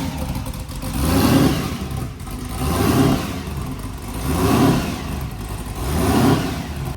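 A methanol-fuelled engine in a workshop revs in four loud, even surges about every second and a half, each rising and falling back to a rough idle, close and with no talking.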